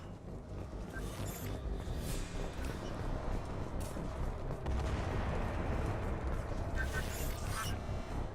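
Explosions and gunfire in the video game Mass Effect 2 form a continuous dense roar of blasts and shots, with sharper bursts standing out near the start and end.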